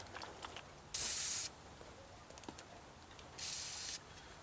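Mineral spirits spray onto a car body panel in two short, close hissing bursts, the second slightly longer, with quiet handling noises between them.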